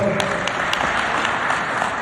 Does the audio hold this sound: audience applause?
yes